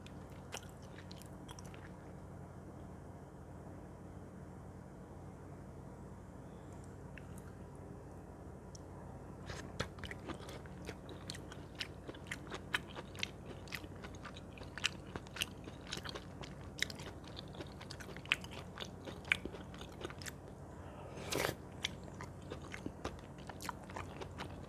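Close, quiet bites and chewing of chicken pot pie crust, with soft crunches and wet mastication that grow more frequent in the second half.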